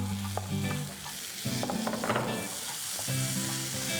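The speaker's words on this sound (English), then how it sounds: "To this I'm going to add some finely chopped tomatoes." Finely chopped tomatoes going into a pan of cooked onions, loud steady sizzling and frying with scraping stirring strokes throughout, close and alone.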